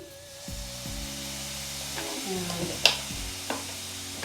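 Mushrooms are sautéed in a pan without oil, giving a soft, steady sizzle with a few sharper stirring knocks. Quiet background music plays underneath.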